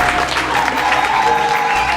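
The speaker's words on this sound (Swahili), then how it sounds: "Makofi yako ni ya kimaskini." Church congregation applauding together, a dense, loud wash of clapping hands that runs steadily throughout with a faint voice beneath.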